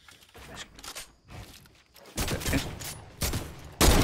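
A Fortnite sniper rifle fires in several sharp gunshot bursts, faint and sparse at first and then louder and denser toward the end, with a final strong crack.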